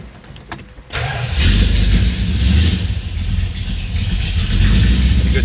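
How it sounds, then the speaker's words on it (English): A 1969 Dodge Super Bee V8 cranks briefly, then catches and roars into a loud, rumbling idle that holds steady close to the microphone, with no talk over it. "We'll go ahead and get it fired up here for you so you can hear that."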